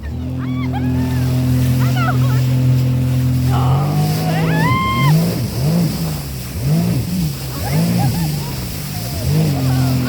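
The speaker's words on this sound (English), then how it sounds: "sounds good with the Riva free flow exhaust on this one" A Sea-Doo Spark Trixx jet ski fitted with a Riva free flow exhaust rumbles steadily at idle, then blips and revs in short pulsing bursts nearby, with splashing water and people talking over it.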